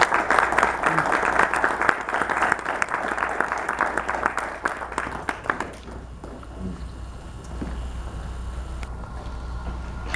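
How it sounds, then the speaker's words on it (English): An audience claps for a panel at a talk, dense applause running for about five seconds before thinning out into scattered claps and room murmur. "Give our collective panel a round of applause."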